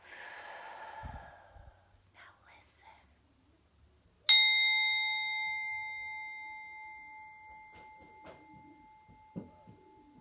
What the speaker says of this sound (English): How long were you able to hear the sound of the bowl?